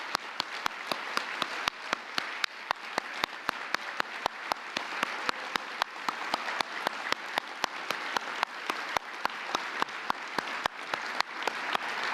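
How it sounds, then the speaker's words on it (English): An audience at a drug-free kids awards dinner applauding service members, sustained crowd clapping with sharp, close individual claps standing out over a dense wash of hands, continuing evenly throughout. "ask anyone who is serving or who has served to stand up and get a big round of applause"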